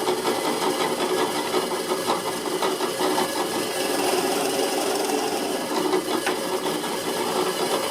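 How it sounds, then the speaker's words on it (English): A steady, grinding drill press whir with a rough rasping texture runs continuously at close range, the bit boring completely through wood, with no talking. "I'm gonna drill a hole completely through, right where my marks are."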